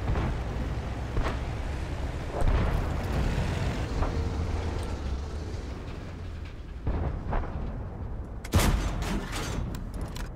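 Tank cannon shots from World of Tanks boom over a constant rumbling engine and battle din, with several heavy blasts spread through the clip and a sharp, loud crack near the end.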